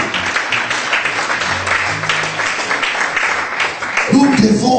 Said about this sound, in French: Applaudissons Jéhovah, alléluia.